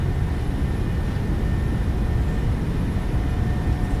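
Engines of a PMDG 737-800 airliner at takeoff thrust in Microsoft Flight Simulator 2020, a steady loud roar with a low rumble and faint high whine, continuous and unbroken.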